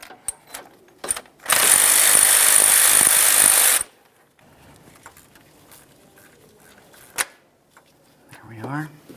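A power tool loosens bolts on the timing belt tensioner of a 2007-2013 Acura MDX, with one loud, sustained burst of whirring lasting about two seconds, surrounded by quiet clicks of metal parts in a garage and someone talking.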